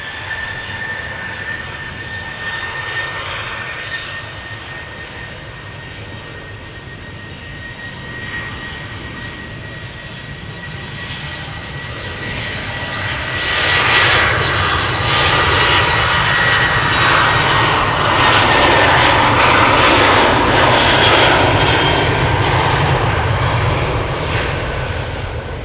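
Passenger jet departing Amsterdam Schiphol Airport, heard up close: a steady engine roar that swells sharply and loud as the aircraft passes, then stays broad and intense with a rushing high whine to the end, no voices.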